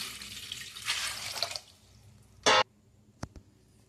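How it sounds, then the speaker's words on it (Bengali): Water poured from a tap into a pot for steaming momos, a soft running splash for over a second, then a short loud gush and a couple of faint drips; no talking. "এবার আমি এতে জল দিয়ে দেবো।"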